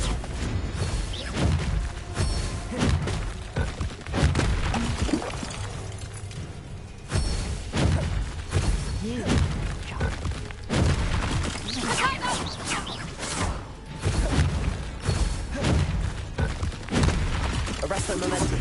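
Rumbling blasts and shattering impacts from a Confringo fire-blast spell in the video game Hogwarts Legacy, mixed into dense combat noise with repeated booms and crashes throughout and a voice talking over it.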